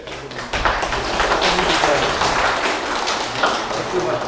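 An audience in a meeting hall applauds, a dense patter of clapping that swells and holds with some speech mixed in.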